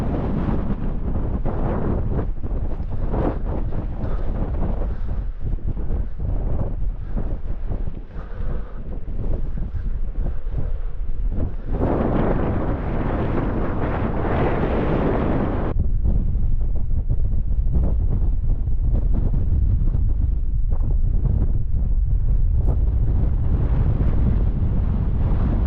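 Strong gusting wind buffets the microphone on a mountain summit above 3000 ft in the Lake District, a loud, continuous roar with surging blasts and no voices.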